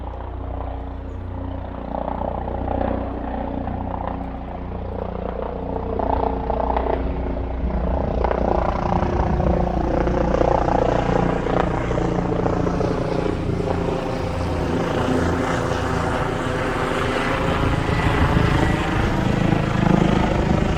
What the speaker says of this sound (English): A helicopter is bringing supplies in.